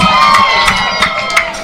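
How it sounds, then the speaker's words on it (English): Minnesota Vixen fans cheer and shout loudly from the crowd at a women's football playoff game against the St. Louis Slam, a sustained roar with whoops rising over it. "you hear the Minnesota fans cheering for the Vixen"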